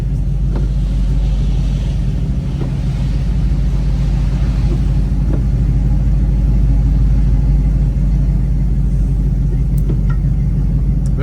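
A 1974 Plymouth Barracuda's 318 V8 runs steadily during a test drive, a deep, constant low rumble with road and cabin noise around it, loud and close with no talk.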